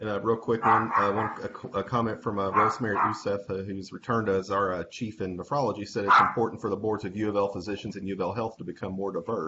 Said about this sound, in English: I apologize for the yapping dogs